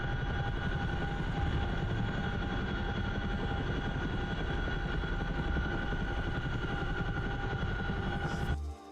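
A helicopter in the DCS World flight simulator drones steadily with a dense, continuous rotor and engine roar, constant and fairly close for the whole stretch before cutting off abruptly at the end.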